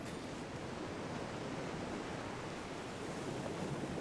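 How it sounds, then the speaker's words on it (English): Steady rushing water fills the scene in the video game Star Wars: The Old Republic, a continuous broadband wash like surf or a waterfall, even and unbroken, with no voices over it. "Can you hear the water sound?"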